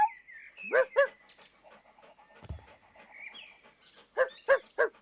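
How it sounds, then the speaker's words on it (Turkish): A dog gives several short, sharp barks in two clusters, with quieter whines and yelps between them; no talking. "Köpek sesini insan sesine çeviremiyor."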